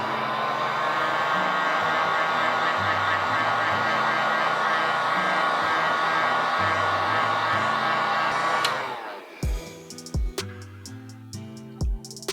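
A blow dryer drying a coat of paint on a 1999 Nike Dunk sneaker: steady, loud whooshing hum for about nine seconds, then it switches off, leaving a few sharp clicks and thumps.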